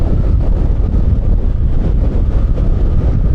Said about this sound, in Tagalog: medyo malakas ang hangin siguro maririnig nyo yan mamaya sa video